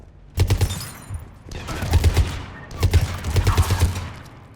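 Gunfire in Mass Effect 3, a video game, rattles out in three loud, close bursts of rapid automatic shots separated by brief pauses.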